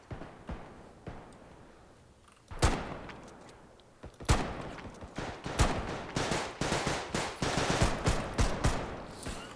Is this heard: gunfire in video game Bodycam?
yes